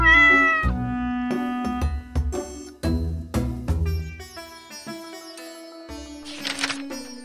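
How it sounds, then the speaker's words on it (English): A cat with a sore, thorn-torn paw meows repeatedly, with loud, close, drawn-out calls over a bright ringing backdrop and no talking. "He says, "My cat has a very sore paw.""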